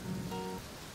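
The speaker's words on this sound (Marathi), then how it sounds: "बाहेर छान पाऊस पडतोय" Rain falls steadily outdoors while a group sits indoors, heard as a soft continuous hiss with a brief tonal hum mid-way, fairly quiet and with no talk.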